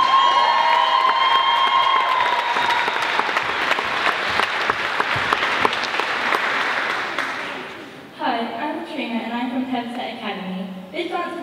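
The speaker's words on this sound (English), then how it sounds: "keep that applause going" Loud audience applause with cheering and whoops fills the hall at a school dance show from Hethersett Academy, sustained and dense, then shifting into a brief musical intro as the clapping continues underneath.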